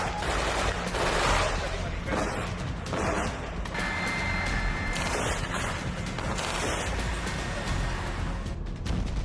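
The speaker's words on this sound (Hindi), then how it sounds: "गाजा एक बार फिर गोलियों की आवाज से कांप उठा।" Dense, continuous gunfire rattles through Gaza, loud and sustained across the whole stretch with bursts overlapping and voices faintly mixed in.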